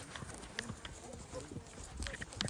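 A horse walks across open plains, its hooves clip-clopping in a loose, irregular rhythm at moderate distance, with people talking over and around the steps.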